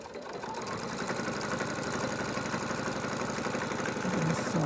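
A sewing machine stitches around a homemade fabric face mask, a steady, close, rapid mechanical whirring and clatter running continuously without pause.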